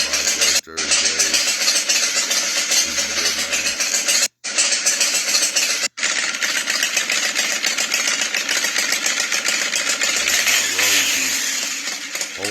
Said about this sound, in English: that one there's Shane's bike